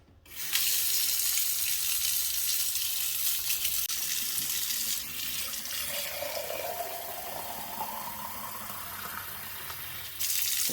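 Hot water runs steadily from a tap into glass canning jars, a loud continuous gushing splash whose tone rises slightly as the jars fill, with no one speaking.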